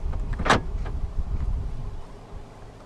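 Central locking on a 2015 Jeep Renegade 1.4 MultiAir Longitude actuates with a single sharp mechanical clunk near the start, close and clear, followed by quiet cabin room tone.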